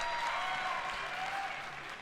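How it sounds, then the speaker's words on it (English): A large audience at a live Bethesda E3 2019 presentation claps steadily in a dense, unbroken wash of applause that fades slightly toward the end, with no talk over it. "Stop clapping, people."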